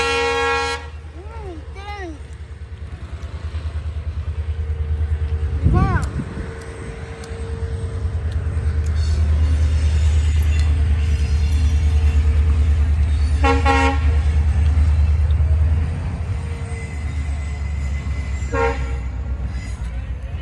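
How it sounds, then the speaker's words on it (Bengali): A passing train rumbles steadily for most of the clip, with a horn toot near the start and later clanking and squealing bursts, heard outdoors while people chat and eat jhalmuri nearby. "কি সুন্দর নজারা, ট্রেন যাচ্ছে, ট্রেন যাচ্ছে, ট্রেন"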